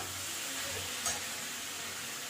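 Spiny gourd (kakrol) and potatoes fry steadily in a pan, giving a constant, even sizzle throughout with one faint clink partway through.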